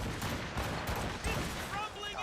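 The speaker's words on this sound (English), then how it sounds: "Hold RB to fire the Puckle gun at weak points." Puckle gun fire in the Assassin's Creed Rogue naval game, dense rattling bursts of gunshots running continuously under a busy battle din, with some voices mixed in.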